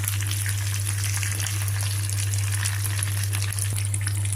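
Green chillies frying in hot oil with a tempering of cumin, mustard seeds, dried red chilli and curry leaves: a continuous even sizzle over a low steady hum, with no talking.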